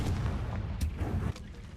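Confringo explosion spell cast in the video game Hogwarts Legacy: a dense, booming low rumble with two sharper blasts partway through, loud and continuous for about two seconds.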